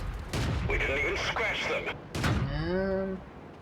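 Tank cannon shots in the World of Tanks video game boom out twice in sharp, loud blasts, each followed by ringing mechanical tones, with someone talking over the gameplay.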